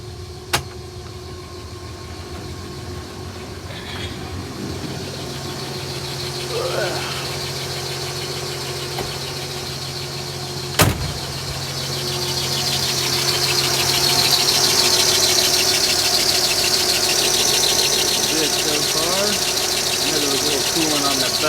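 A 1954 Chevy Bel Air engine idles steadily nearby, warming up after a water pump replacement, its low hum broken by a sharp click partway through and growing a little louder and hissier toward the end.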